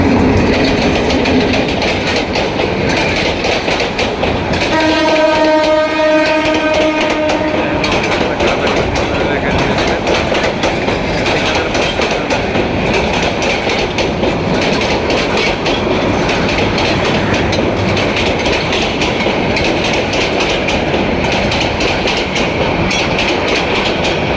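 A train rolls through the Malibagh railway crossing in Dhaka with a loud, continuous, nearby rumble and rhythmic wheel clatter. A brief tonal horn-like sound comes early on, over busy street noise.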